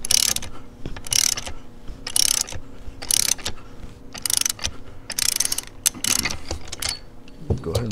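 Ratchet wrench tightening bolts on a 2004-or-later Harley-Davidson Sportster bottom end during reassembly: loud, close, repeated clicking ratchet strokes in a steady rhythm of about one per second over workshop background noise.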